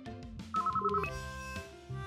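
A fax-equipped landline phone rings in a visual novel game, a short electronic melodic ringtone with bright repeating tones over soft background music.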